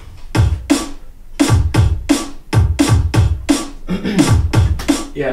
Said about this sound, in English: Sure, you have a bass drum, you also need a snare.